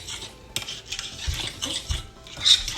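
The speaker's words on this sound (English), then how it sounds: "Just mix it all well together." Banana bread batter being stirred in a bowl, a utensil scraping and clinking against the sides in an uneven rhythm of soft scrapes and taps, close up with no voices.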